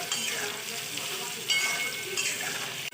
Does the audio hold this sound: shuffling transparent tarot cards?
no